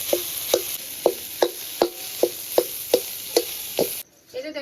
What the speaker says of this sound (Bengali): আলুটা দিয়ে এরকম ভেঙে ভেঙে দেবো